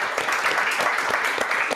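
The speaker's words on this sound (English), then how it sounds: "Let's give a round of applause to all our panelists." Audience applause for a panel of speakers at a plastics policy dialogue, a dense steady wash of many hands clapping at close range with no voices over it.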